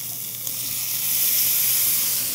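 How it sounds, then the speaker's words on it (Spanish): Meat juices sizzle in a frying pan while a mixed sandwich cooks: a steady, close hiss that swells louder through the second half, with no talking. "ese sonido así como de que se está friendo algo"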